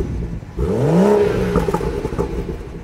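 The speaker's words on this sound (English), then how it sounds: "Some nice bubbling there from the exhaust." A 2016 BMW 340i sedan's B58 turbocharged inline-six revs up and falls back, engine note rising and easing under a steady rumble, with faint popping and bubbling from the exhaust near the end.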